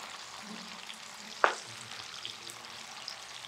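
Raw prawns frying in hot oil for prawn Manchurian, a soft steady sizzle with one sharp crackle or spatter burst midway, fairly faint and without voices.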